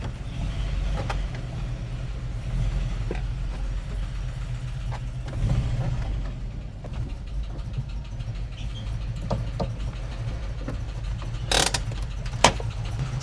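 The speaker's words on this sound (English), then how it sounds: "Definitely misfiring a bit. It's quieter, obviously quieter" The engine of a 1988 VW Vanagon with a new muffler idles unevenly with a slight misfire, a low steady rumble with occasional stumbles and small knocks, heard close and continuous, with no voices.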